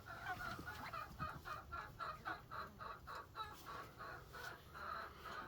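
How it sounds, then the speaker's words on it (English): Roosters and a hen kept as meat birds on a farm cluck in a steady, repeated rhythm, the calls moderately quiet and close by, with no talking over them. "So we got 2 roosters here and 1 hen there."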